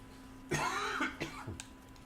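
A short burst of coughing, two or three rough coughs close up, followed by a brief throat-clearing sound in a quiet room.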